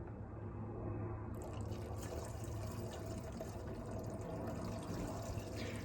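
Plain gasoline pours into a lawn mower's fuel tank in a soft, steady trickle and gurgle that goes on without a break, faint and close by.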